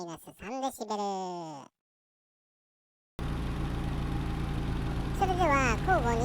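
A Mitsubishi Lancer EX Turbo idles steadily at close range with Bellhammer 7 added, a low, even engine hum that begins after a speaking voice and a pause of silence, with talk returning over it near the end.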